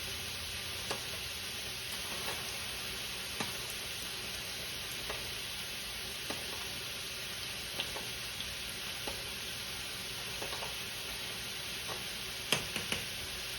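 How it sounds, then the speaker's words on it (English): Spaghetti noodles stirred in a pot with tongs, heard as a constant hiss behind a string of light, scattered clicks and taps, one sharper knock near the end. "Stirring noodles is always done with tongs, let that be known."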